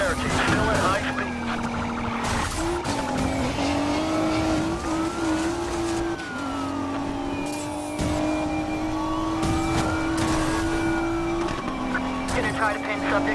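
A high-speed car in Need for Speed: Payback howls with a strained engine tone that rises and dips through gear changes, with sharp impacts and chatter over the top and radio voices talking beneath.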